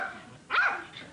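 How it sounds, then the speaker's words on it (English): A dog on a late-night talk show set gives one short, sharp bark at close range, alone with no talk over it. "Oh, there's the dog, yep."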